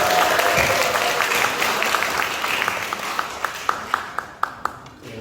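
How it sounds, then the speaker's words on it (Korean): A church congregation at a Sunday morning service applauds, dense clapping that gradually thins out into a few loud, separate claps near the end, with faint voices underneath. "우리 정장구 성도님 일어나서 박수"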